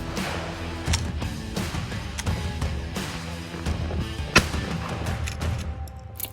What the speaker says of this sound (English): we had to shoot off a few rounds of our shotgun